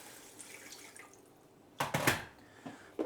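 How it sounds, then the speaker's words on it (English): Water is added to a pressure cooker holding eggs on a trivet, starting as faint background then a short burst of splashing pours and drips near the end. "Add some water."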